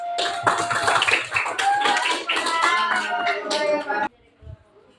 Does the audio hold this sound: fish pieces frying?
no